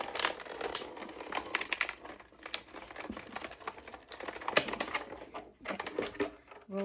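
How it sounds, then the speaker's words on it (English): A 9-inch Sizzix Big Shot Plus die-cutting machine is cranked to roll a cutting plate through, giving a steady run of faint, close clicking and crinkly grinding. "And now I'm gonna roll it through to get everything cut out."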